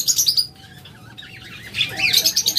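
Pet lovebirds give sharp, high chirps and squawks in quick bursts, loud and close, easing off briefly in the middle before picking up again.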